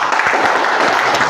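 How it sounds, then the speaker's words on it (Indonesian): Loud, dense applause from an audience at a motivational talk, a thick unbroken wash of many people clapping at once, close and full, with no voices on top. "Tepuk tangan dulu buat saya."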